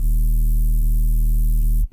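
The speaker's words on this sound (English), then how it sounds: "You can even add serum distortion, which you can see really helps that third and fourth harmonic come through." Dubstep sub bass run through Serum's tube distortion, giving a loud, sustained, buzzing low tone with strong harmonics, restarted twice at even intervals before it cuts off.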